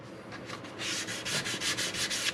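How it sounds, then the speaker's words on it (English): Curved end-grain wood being sanded by hand while routing contours on a guitar build: about a dozen quick, rhythmic rasping strokes, close and clear, with no voices. "The surface is quite rough, but I do think it sands off."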